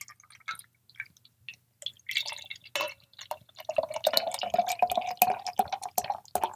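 Short's Batch 8000 quadruple IPA brewed with raspberries poured into a glass, starting with a few scattered drips and splashes, then a steady, close glugging stream that fills the glass over several seconds.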